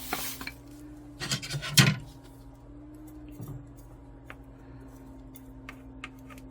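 Potting soil for a crab cactus being mixed, with a few louder scraping, rattling bursts early on that settle into quieter intermittent stirring and clinks.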